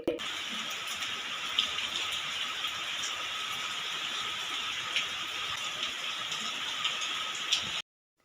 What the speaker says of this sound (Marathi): बाहेर इकडे पाऊस सुद्धा चालू झालेला आहे.